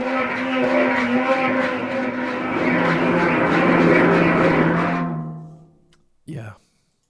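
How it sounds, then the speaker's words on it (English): A muffled scratch sample from the Orchestral Tools Illuvia pack: a dense, rough, continuous scraping texture that swells for about five seconds, cuts off, and leaves a brief soft burst near the end. "Let's do some muffled scratches"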